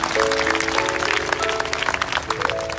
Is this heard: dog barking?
no